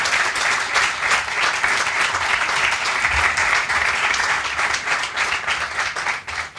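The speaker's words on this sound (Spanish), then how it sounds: "Le damos un aplauso." An event audience gives a broad, even round of applause, a steady wash of many hands clapping for about six seconds with little talk, thinning slightly near the end.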